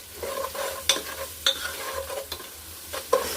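Turmeric and ground masala paste are stirred in hot oil over a low sizzle, with a spoon scraping and clinking against the pan in several sharp, irregular strokes; no one speaks.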